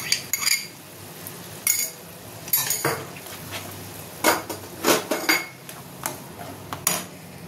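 Beaten yogurt and spices going into a pan for butter paneer, a series of close metallic spoon clinks and scrapes against the pan in irregular bursts.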